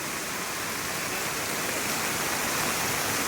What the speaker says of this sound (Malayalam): ഹൈവേ നിന്ന് ഒഴുകി വരികയാണ്. വെള്ളച്ചാട്ടം പോലത്തെ അവസ്ഥയാണ്.